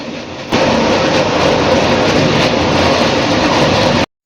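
A passenger train running from Howrah toward Hyderabad gives a loud, steady rumble and roar of wheels on track, constant and close with no talk, cutting off abruptly.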